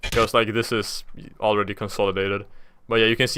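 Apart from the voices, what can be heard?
No everyday noise stands out behind the speech.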